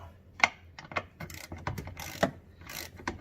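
Ratchet snugging the brake booster nuts on a Ford Escape, several short clicking bursts close by, uneven in rhythm with brief pauses between strokes.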